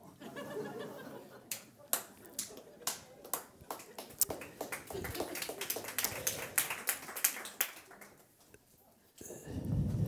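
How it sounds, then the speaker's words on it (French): A crowd of retirees applauds at a talk, the claps coming as scattered sharp bursts at first and then thickening into steady clapping, with light chuckles and a few voices mixed in before a louder noise closes the clip. "Je suis content parce que c'est des retraités qui m'applaudissent"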